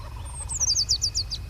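Wild turkey tom in the Turkey Hunting Unlimited hunting game, calling with a rapid series of sharp, high chirping notes that rise and fall in a quick rhythmic run, fairly clear over a low steady rumble.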